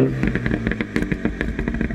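A MINI car's aftermarket exhaust burbles and pops with a throaty, uneven rumble, recorded up close over a couple of seconds.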